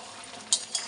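Pieces of mutton stirred and fried in a pan: a continuous sizzle close by, broken by two quick scraping clinks of a spoon on the pan near the end.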